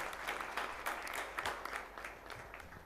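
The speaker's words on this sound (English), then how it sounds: "give a huge round of applause to this man of actions, Shri Chinmay Panditji, sir" A hall audience at a JCI Nagpur Medico installation ceremony gives a steady, dense round of clapping that continues unbroken throughout, with scattered louder claps standing out from the crowd.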